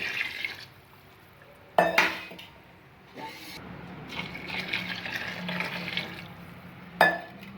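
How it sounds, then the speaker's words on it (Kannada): Water poured into a pot while making chicken biryani, a moderate splashing pour between sharp clanks of a metal vessel against the pot at the start and end. "ಒಂದೂವರೆ ಲೀಟ್ರ್ ನೀರು ಹಾಕಾಯಿತು"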